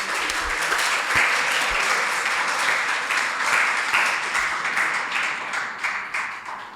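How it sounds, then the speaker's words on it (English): Seminar audience applauding steadily throughout, a dense wash of many hands clapping at close range with no talk over it. "Clap for yourself."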